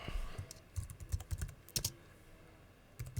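Computer keyboard arrow-down key pressed repeatedly while working at a mixing console setup, a run of quiet, close clicks at irregular intervals with short pauses between taps.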